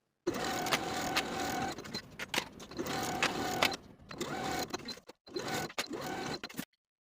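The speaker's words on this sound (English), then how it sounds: "sew each long edge with a 3/8 inch seam allowance" A sewing machine stitches a long fabric strap seam in several bursts, a close rhythmic needle chatter stopping and restarting with short pauses between runs before falling silent.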